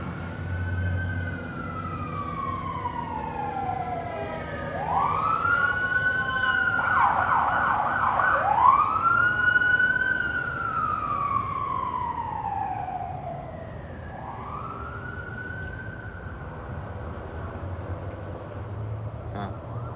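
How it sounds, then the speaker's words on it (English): Police and emergency vehicle sirens wail alone for a long stretch, their rising and falling tones sweeping through several overlapping cycles, loudest midway as they pass, then fading and returning at a moderate distance. "Sirens, huh? How about if they're going on all night and all day?"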